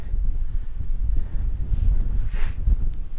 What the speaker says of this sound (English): Oh, it's biting wind, terribly biting wind.